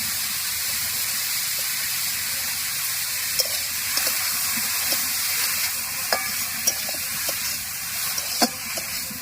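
Chopped green chillies, spring onions and onions go into a hot pan and fry with a steady hiss, joined by scattered pops and crackles, moderately loud with no voices.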